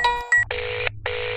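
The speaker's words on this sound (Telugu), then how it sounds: "ఫోన్ వచ్చింది." A telephone rings in electronic bursts: a brief tonal chirp, then two sustained ringing tones separated by a short gap, clear and close with no talk over it.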